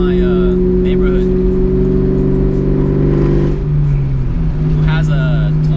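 A Shelby Cobra drives with a steady, loud, droning engine note that dips in pitch partway through, and a voice is heard over it.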